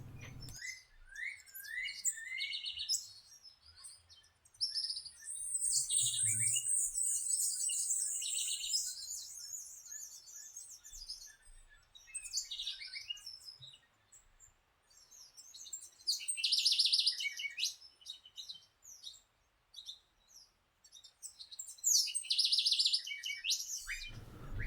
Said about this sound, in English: The cloud forest is famous for the variety of hummingbirds, but they're not easy to see.